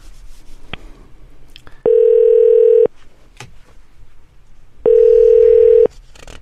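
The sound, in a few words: telephone ringing tone while connecting a phone interview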